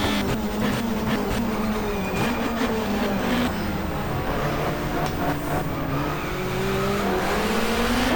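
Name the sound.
touring cars racing, BMWs in front, video game GTR2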